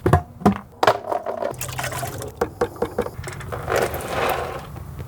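Engine oil draining from a car during an oil pan gasket repair, splashing and trickling into a container in uneven bursts, with knocks and clatter close by.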